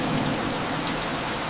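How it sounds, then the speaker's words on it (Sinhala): Heavy, unrelenting rain pours down in a dense, even hiss, with a low thunder rumble beneath it throughout the short stretch. "යකෝ වහිනවා ඉවරයක් නැහැ"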